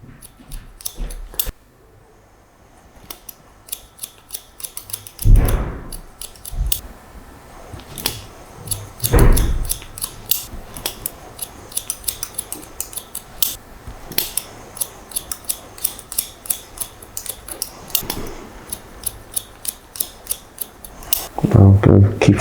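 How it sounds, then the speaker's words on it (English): Haircutting scissors point-cutting hair on a textured wispy fringe, giving many quick close metallic snips in uneven bursts, with a few louder handling knocks and no talking. "And now what I'll do is I'll point cut into this."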